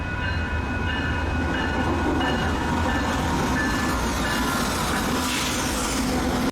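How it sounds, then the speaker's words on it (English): Train cars rumble past close by in a steady, loud roar with a faint rhythmic clatter of wagons on rails, constant from start to finish. "Can we get a train?"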